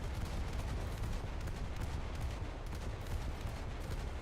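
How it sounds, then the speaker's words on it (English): Dense gunfire and artillery from a War Thunder battle, a continuous dull barrage of overlapping shots and booms at steady loudness. "Oh, I'm being shot at."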